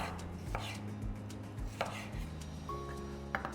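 A knife roughly chops tomato on a board in a rapid run of close taps, then a few more scattered cuts after a brief pause. The tapping is moderately quiet, with no speech.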